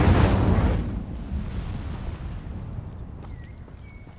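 In Hogwarts Legacy, an Incendio fire spell erupts in a loud, sudden fiery burst that quickly fades into a long, low rumbling tail.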